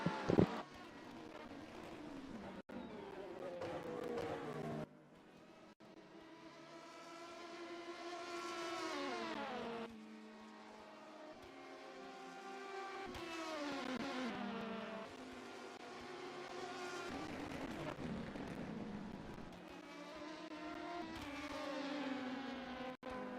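Three race cars in an endurance-racing video game at Portimao run in a slipstream down the start-finish straight, their engines droning and rising in pitch through the gears, steady and fairly close with no talk.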